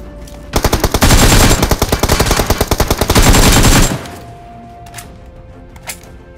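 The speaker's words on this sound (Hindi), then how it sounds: "सामने से एक बंदा M4 का टैप टैप फायर देता है" An M4 rifle fires in a mobile battle royale game as a loud, rapid string of gunshots that lasts about three seconds and then stops abruptly. A few faint distant shots and clicks follow.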